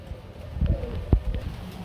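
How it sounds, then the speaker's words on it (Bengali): Large pigeons coo at a pigeon market, a couple of low soft throaty calls close by against faint background noise. "আহ কি সাইজ কবুতর গো ভাই"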